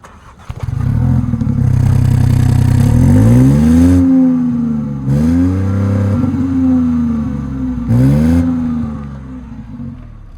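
A BMW Mini's three-cylinder engine revs hard three times, each rise climbing and then dropping back to a throaty idle, loud and close with a deep exhaust note through a bigger exhaust pipe.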